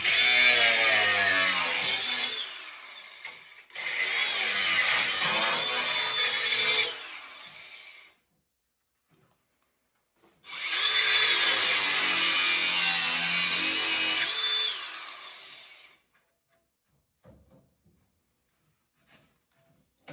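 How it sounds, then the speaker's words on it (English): A power tool cuts through the steel rear bumper of a Land Rover Series 3 in two long, loud, continuous bursts with a short pause between them, then stops, leaving a few faint knocks. "We're going to cut out the bumper in sections."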